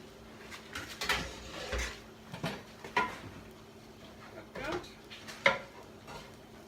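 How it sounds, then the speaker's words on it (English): A lid comes off a pot of sauerkraut on the stove, with several clanks and metallic knocks spaced out among softer kitchen handling sounds, fairly faint overall. "Get the lid off here"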